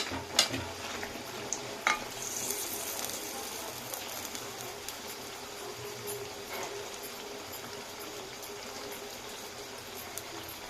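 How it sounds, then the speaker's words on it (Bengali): Lachha paratha fries in oil, giving a steady close sizzle with a few sharp clinks and scrapes near the start, then a continuous, even crackle. "পরোটাটা এবার ভাজা হচ্ছে তো এইভাবে পটাটা ভেজে নিচ্ছি"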